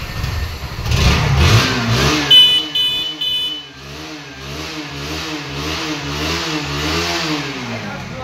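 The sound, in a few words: Bajaj Pulsar NS160 motorcycle engine revving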